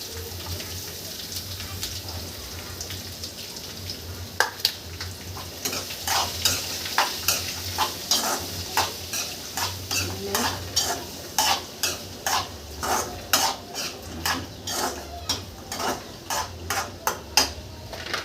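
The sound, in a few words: onion added to frying coconut pieces, stirred in pan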